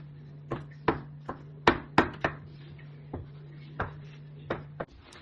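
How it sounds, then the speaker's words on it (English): A kitchen knife dices mushrooms on a board in about a dozen crisp, irregular chops, some in quick pairs. The chopping is close and fairly quiet over a steady low electrical hum. "I will be dicing up the mushrooms"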